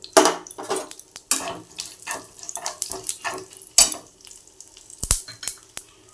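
Mustard seeds, garam masala and dry red chillies crackle and sizzle in hot oil as a tempering, with sharp pops and spits over a few seconds alongside brief utensil clinks.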